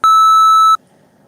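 A computer security warning alert sounds as a single loud, sharp electronic beep lasting under a second, steady in pitch, then cuts off to near silence.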